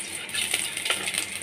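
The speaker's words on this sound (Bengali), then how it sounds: "খুব একটু কম তেলে আমি একটু দিয়ে দিচ্ছি কালো জিরে ফোড়ন।" Nigella seeds tempering in a little hot oil in a pan, a bright continuous crackle and sizzle with small pops, close and steady throughout.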